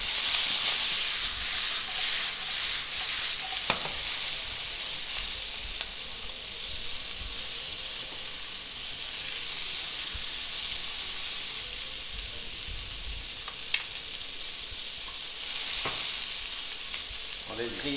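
Half the vegetables hit a hot pan and fry with a loud, steady sizzle and steamy hiss, punctuated by occasional sharp pops and scrapes.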